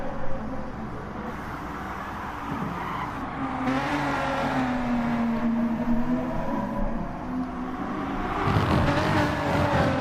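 NASCAR stock cars racing in Gran Turismo Sport, engines roaring steadily and close with rising and falling revs, tires squealing through corners, and no talk.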